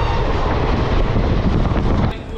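A local train running fast on rails, a loud continuous rumble and rushing roar from on board, with wind buffeting the microphone and the level dipping slightly near the end.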